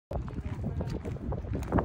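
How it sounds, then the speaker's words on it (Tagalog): Brief burst of strong wind rumbling and buffeting the microphone high on a mountain cliff, steady and loud for about two seconds. "sobrang hangin talaga dito sa taas"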